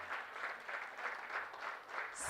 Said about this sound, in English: let's encourage them with a big,